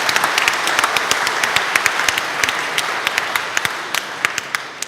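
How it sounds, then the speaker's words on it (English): An audience at a hackathon award show applauds steadily, dense clapping with sharper individual claps standing out throughout, moderately loud and close. "Give him a round of applause,"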